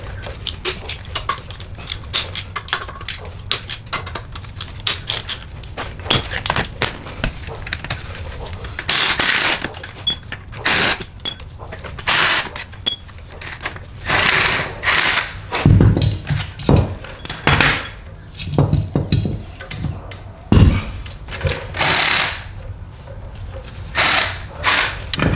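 Hand tools work at removing the AC compressor from a Honda B18B engine during an engine swap, producing close, irregular clanks, knocks and rustling bursts with scraping handling noises.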